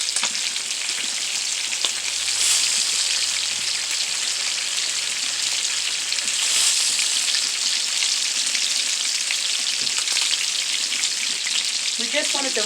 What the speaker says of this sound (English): we're going to wash this bowl out